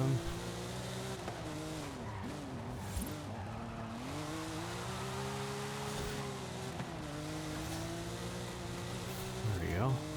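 Racing car in Forza Horizon 5 under heavy braking, a loud continuous engine drone sliding down in pitch with tyre squeal near the end, while a voice talks over it.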